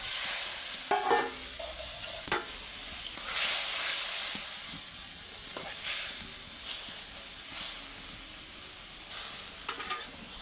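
Pieces of bhola fish go into a pot of boiling spicy curry gravy, giving a steady close hiss and bubbling with occasional light clinks and stirring knocks throughout.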